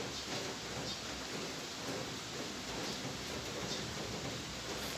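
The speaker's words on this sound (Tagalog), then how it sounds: "medyo maulan dito sa lugar namin" Steady rain falls as a dense, even hiss at moderate volume, continuous and unbroken throughout with no voices.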